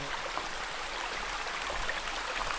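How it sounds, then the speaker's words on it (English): A small babbling brook flows through a forest, a soft, steady trickle of water heard alone at moderate distance without any breaks. "There's a stream down here."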